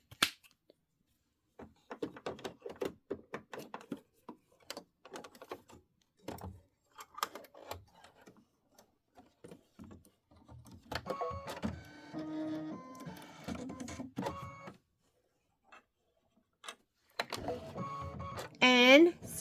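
An embroidery machine stitches a quilt block in peach thread, giving a steady mechanical whir with rapid needle ticking in the latter part, preceded by scattered handling clicks and a person speaking.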